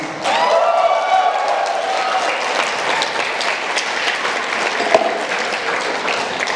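Wedding guests at the speeches cheer and clap in sustained applause, with whoops and voices rising over the dense clapping before it gradually thins, one louder clap standing out near the end.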